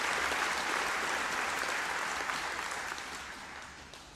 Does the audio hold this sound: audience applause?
yes